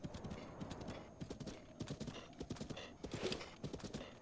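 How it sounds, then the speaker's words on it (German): The horse Epona in the video game Zelda Breath of the Wild trots with rapid, rhythmic clip-clopping hooves, moderately close, with a brief snort-like noise partway through and no talking. "Oh, komische Geräusche. Ich glaube, das hat Asthma oder so, das arme Pferd."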